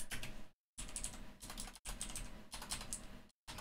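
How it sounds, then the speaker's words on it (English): Someone types on a computer keyboard in quick, dense bursts of close clicking, broken by a few short silent pauses, with no voices. "You hear me typing."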